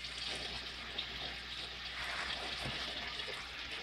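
Water drains steadily as an aquaponics bell siphon activates in a small indoor setup, a soft continuous gurgling trickle at low level with no speech.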